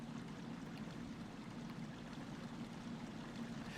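Steady running water from a stream in Paper Mario: The Thousand-Year Door, a soft continuous rush that holds even and quiet for the whole stretch with no talk over it.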